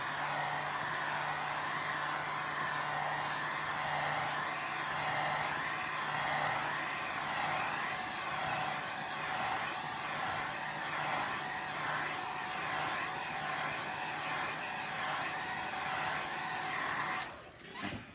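A hair dryer blows steadily on a watercolor painting done in burnt umber, a loud continuous whirring hiss held close for about seventeen seconds before it cuts off abruptly.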